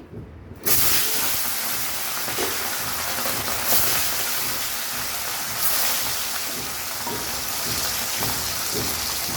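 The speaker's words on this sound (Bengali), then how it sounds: "মাছগুলো এখন ভেজে নেই" Small shilong fish frying in hot oil in a kadai, a steady loud hiss and sizzle that starts abruptly and holds evenly for several seconds with faint spattering crackles, no voices.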